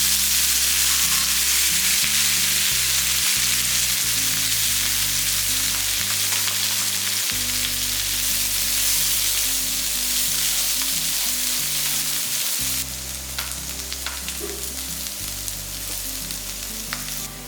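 Masala-marinated potatoes fry in a pan with mustard seeds and curry leaves, giving a steady, dense hissing sizzle close by with occasional stirring scrapes and no talking.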